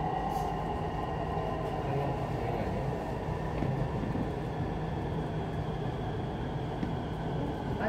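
A Bangkok metro train running, with a steady low rumble and rolling hum that holds evenly throughout, heard from inside the carriage.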